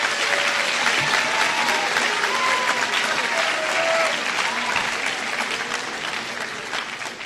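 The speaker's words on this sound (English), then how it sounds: "let's give a round of applause for Mrs. Dempsey and Mr. Thibodeau." A crowd at a senior oratorical event applauds loudly and continuously, a dense wash of clapping that holds steady before easing slightly toward the end, with a few voices mixed in.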